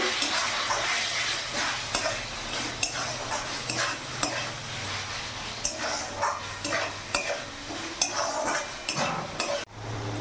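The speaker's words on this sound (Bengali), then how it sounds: "জিরে গুঁড়ো দিয়ে দিলাম এক চামচ ধনে গুঁড়ো দিয়ে দিলাম দু চামচ ভালো করে মিশিয়ে নেবো" A spoon stirs ground cumin and coriander into a sizzling chicken curry, scraping the pan repeatedly over a steady frying hiss, close and fairly loud, with no talking. The sound ends abruptly at the very end.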